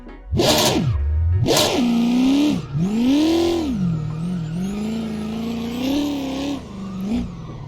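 A car drifting in the Assetto Corsa racing game: the engine revs up and down repeatedly while the tires squeal and screech through a long slide, loud and continuous with no talking.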